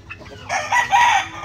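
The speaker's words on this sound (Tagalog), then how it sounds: "So ito pa yung sweater asil natin." A Sweater Asil gamefowl rooster crows nearby, a loud drawn-out call rising after a few soft clucks and ending with a strong sustained note.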